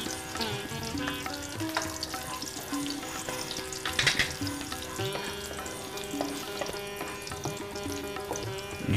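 Cumin seeds and chopped ginger frying in hot ghee, a continuous busy crackle and sizzle up close with stirring and occasional utensil knocks, loudest around the middle; no voices.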